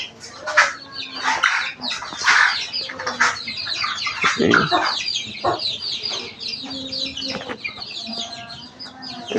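Young Cock chicks let outside to roam, clucking and peeping in a busy, overlapping chorus close by, with a few louder calls and some wing flapping mixed in.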